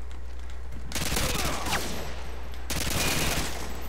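An AA-12 shotgun fires in a Modern Warfare 2 match, with two dense bursts of rapid blasts, the first lasting nearly two seconds and the second slightly shorter, over a low steady game hum.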